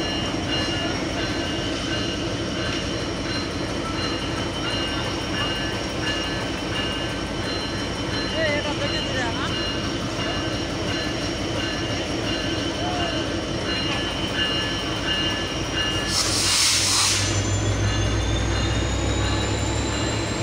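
Titumir Express intercity train at Parbatipur Junction in Bangladesh, a steady rumble of rail cars and wheels with a constant humming drone throughout, a brief hissing burst near the end, and voices talking faintly in the background.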